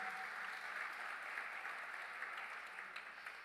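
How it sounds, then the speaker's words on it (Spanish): A church congregation applauds during a sermon, producing a dense, even wash of clapping that holds steady and fairly distant throughout. "Dele un fuerte aplauso."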